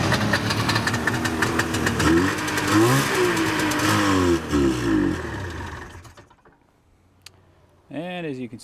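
A 1978 Arctic Cat Panther 5000 snowmobile engine fires on starting fluid and runs loudly, revving roughly for several seconds before dying into quiet, then a brief pull or crank noise near the end.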